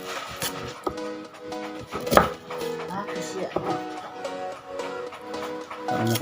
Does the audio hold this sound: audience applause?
no